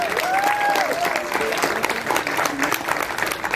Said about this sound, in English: Another round of applause for the Quarrymen.